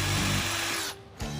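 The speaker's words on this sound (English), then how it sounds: "It's like some kind of ultra hard steel that just doesn't drill." Power drill with a carbide bit straining against ultra hard steel during garage work on a car's linkage, a loud continuous grinding whine that briefly dips and stalls near the end before spinning back up.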